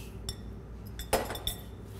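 Apple slices tossed with a flour mixture in a bowl for an apple crisp, with a few light clinks and taps of a utensil against the bowl over a soft background hum.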